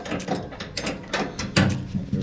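A ratchet tightens a nut on the J-bolt of a gas tank strap on a Chevy C10 in a series of quick, close clicking strokes with short pauses between them.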